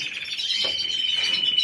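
Pet birds at home chirping steadily, a bright high continuous twittering with a brief louder note near the middle, close and alone without voices.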